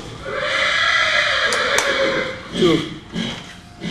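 A horse gives a neigh during talk about horseshoeing, with a steady hum underneath and someone speaking over part of it.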